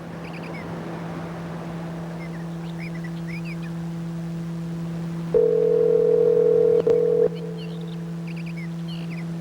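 A steady electronic hum runs under a single loud telephone ring tone that lasts about two seconds and then breaks off, with faint background noise and no speech.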